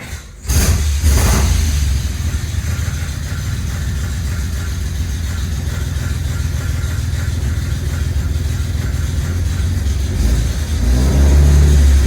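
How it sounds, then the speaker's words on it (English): A 1948 Dodge flathead six with baffled dual exhaust starts up and revs repeatedly, its loud, close engine note rising and falling with a raspy exhaust tone. "we're gonna hear what kind of difference the baffles make and see if it's something we want to go with"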